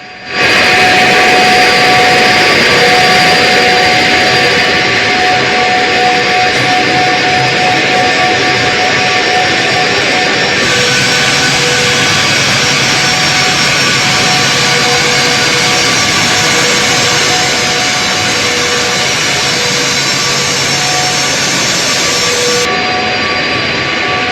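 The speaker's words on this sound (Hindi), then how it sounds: "पुतिन जब लैंड हुए हैं तो सबकी नजरें पुतिन के इस विमान पर थी" Engines of Putin's jet, the aircraft called the Flying Kremlin, roar steadily and loudly just after landing, a continuous high whine over a rumbling drone with no talk.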